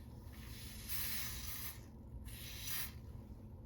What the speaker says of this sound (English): you can spray the skin, or you can spray it on top of the lace